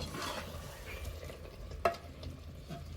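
Chicken biryani masala being stirred in a pot, a steady scraping and sizzling texture throughout with one sharper clink of the spoon against the pot partway through.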